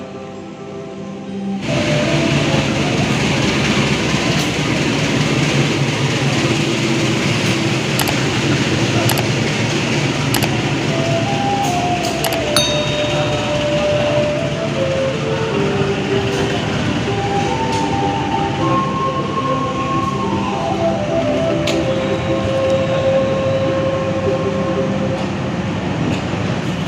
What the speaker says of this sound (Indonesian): kereta ekonomi 2 lewat